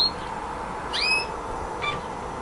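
A canary gives a few brief, high whistled calls, one about a second in and a fainter one near the end, over a steady background hiss, quiet and fairly close.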